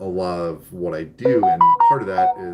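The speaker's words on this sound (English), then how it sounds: "I think my phone just went off for some reason." Someone talks while a short electronic chime of a few rising tones sounds over his speech, like a phone alert.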